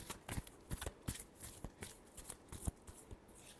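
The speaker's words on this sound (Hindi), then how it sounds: "last shuffle" Tarot cards being shuffled by hand, a rapid series of soft riffling flicks and slaps in an uneven rhythm, close and quiet.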